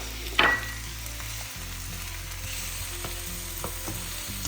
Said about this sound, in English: We'll cook this onion until it's slightly translucent. Add 2 slit green chilies.